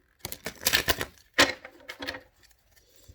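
Tarot cards are shuffled close by in quick clattering riffles that come in a few short bursts, with brief pauses between them and no talk.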